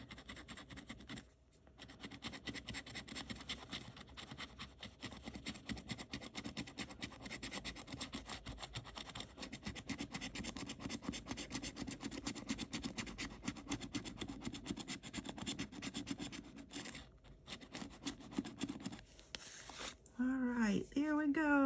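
A Loteria lottery scratch-off ticket being scratched, a steady close rasping and rubbing that runs almost continuously for about twenty seconds, with a voice heard at times.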